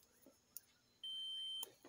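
A multimeter on its continuity test setting gives a steady high-pitched beep lasting about half a second, clear and fairly close, while a microwave oven transformer is being tested, with faint clicks of the probes around it.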